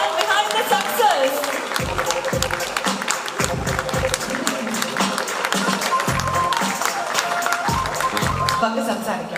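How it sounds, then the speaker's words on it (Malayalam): An audience applauds the director at a film success celebration, with steady clapping over several seconds alongside a voice talking and background music. "നല്ലൊരു കയ്യടി ആവോ"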